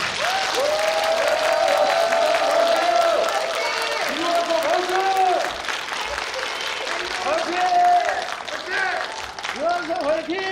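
An audience applauds the mayoral candidates at the close of a local election debate, with sustained clapping and crowd noise throughout and a spoken voice running over the applause.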